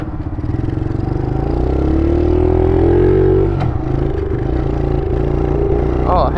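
A Honda CRF70 dirt bike runs with the choke on, its small engine holding a loud, steady, close idle that rises slightly in pitch midway before settling back.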